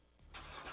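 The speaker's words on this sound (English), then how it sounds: "That's the sound of America's only sports car." A Chevrolet Corvette sports car engine starts up: a quiet moment gives way to a sudden loud, broad engine roar that holds to the end of the short burst.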